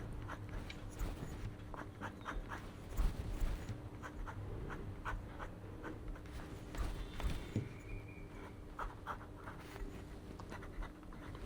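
A fountain pen with a cartridge and a comfortable grip scratches across paper in short, quick strokes, close and faint, with some light handling noise and no talking.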